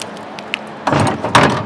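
A truck door panel being reworked with filler is shifted and flipped over, giving a couple of close scraping knocks and rattling bumps in a short burst.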